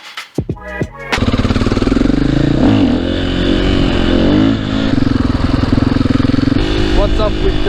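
A 510cc Supermoto motorcycle engine starts with a few sputtering pops, then settles into a loud, close, steady throbbing idle with brief blips of the throttle.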